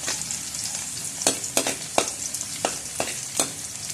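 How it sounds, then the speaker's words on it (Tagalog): Garlic sautés in hot oil in a pan for pork pochero, a loud steady sizzle broken by repeated spatula scrapes and clacks in an uneven rhythm during the second half. "Magigisa na po tayo mga kausyoso. Siyempre, bawang muna."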